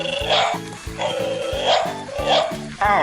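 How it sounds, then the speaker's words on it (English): A dog, apparently a toy or game dog, gives a rapid series of yipping barks in a steady rhythm of about eight close, loud yaps, with brief sharp sounds between them. "the dog's fighting me"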